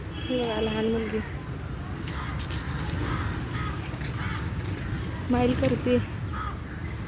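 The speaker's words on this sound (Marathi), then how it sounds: "किती कावळे ओरडायला लागलेत, त्यांना भूक लागली वाटतं." Several crows cawing in loud, ragged bursts near the start and again near the end, over steady outdoor ambience with people talking throughout.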